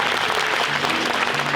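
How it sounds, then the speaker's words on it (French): Steady, dense applause from an audience at a mentalism show in the Zénith de Strasbourg arena, many hands clapping together at close range, with brief voices faintly audible underneath. "Oui, vous pouvez applaudir Benjamin, bien sûr."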